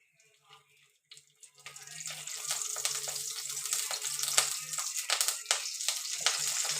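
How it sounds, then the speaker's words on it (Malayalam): Curry leaves drop into two tablespoons of hot coconut oil for a chicken curry. After a few faint taps, a loud, close crackling sizzle bursts up and keeps spitting and popping to the end. "എണ്ണ ചൂടാകുമ്പോൾ കറിവേപ്പില ഇട്ട് കൊടുക്കാം."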